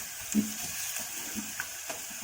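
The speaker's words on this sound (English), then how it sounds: "Now I can hear the sizzle." Steady hissing sizzle of prawns frying in a hot pan, constant and moderately loud, with a few faint clicks and scrapes over it.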